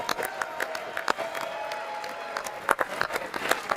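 Applause from lawmakers during a presidential address to Congress, a steady crackle of clapping that sounds partly thin, with scattered louder claps, heard over room ambience without speech.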